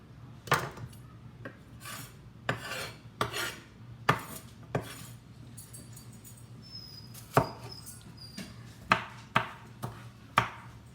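Knife chopping vegetables on a cutting board for a curry vegetable tofu dish, irregular sharp thuds and clicks repeating every second or so, close and clear with no talking.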